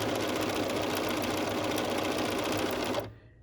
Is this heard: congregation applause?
no